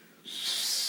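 A sharp, airy hiss rises and holds steadily, a voice imitating a piercing high-pitched test tone.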